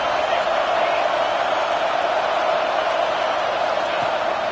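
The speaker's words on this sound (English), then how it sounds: "the crowd really making some noise now, trying to help out this defense to get this stop near the goal line" Stadium crowd noise from the College Football 26 video game during an Ohio State vs Nebraska matchup, a steady, loud roar of cheering fans near the goal line, continuous and unbroken throughout.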